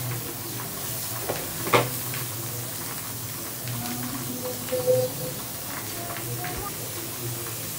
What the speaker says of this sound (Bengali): এখন ফার্স্টে আগে একটু পেঁয়াজ বেরেস্তা করে উঠাই নিতে হবে।